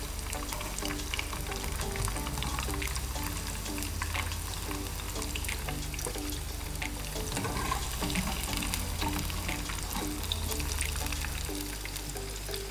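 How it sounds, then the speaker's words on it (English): Eggplant quick-frying in oil in a pan gives a loud, continuous sizzle and crackle, with occasional stirring scrapes, steady throughout with no talking. "give it a quick fry. So when you see a little bit of brown on your eggplant is ready to take out"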